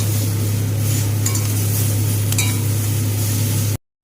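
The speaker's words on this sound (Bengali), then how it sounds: "এবার সমস্ত উপকরণ একসাথে ভালো করে ভাজবো।" Onion stir-fried with eggplant and yardlong beans in a pan gives a continuous close sizzle with occasional scraping stirs over a low steady hum, ending abruptly.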